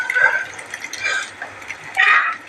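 Boiled white peas are poured with their cooking water into a pan of fried masala, giving short splashy liquid gushes and trickles close up, with a quiet lull between pours.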